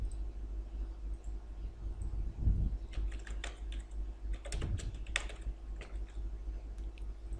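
Typing on a computer keyboard while entering text in Photoshop, with irregular quiet clicks clustered in short bursts, a couple of louder thumps mixed in, over a low steady room hum.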